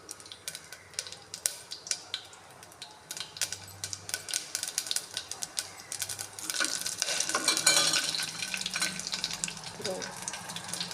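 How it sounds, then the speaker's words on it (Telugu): Mustard seeds and cumin crackle and sizzle in hot oil over high flame, with dense popping ticks that build to a loud, steady fry near the end. "ఇప్పుడు ఆవాలు, జీలకర్ర వేస్తున్నాను."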